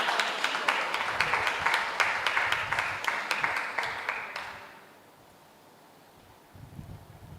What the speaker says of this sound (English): Give them a round of applause together